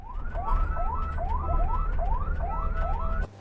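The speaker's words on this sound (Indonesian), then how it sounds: "Momen saat Askiara dibawa mobil ambulans ini begitu menyesakkan dada" An ambulance siren in Indonesia yelps in quick, repeating rising sweeps, about seven cycles, loud and close, over low traffic rumble before cutting off abruptly.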